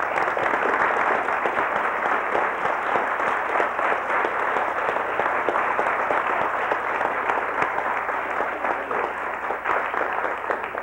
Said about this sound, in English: I think they should all stand up and get a round of applause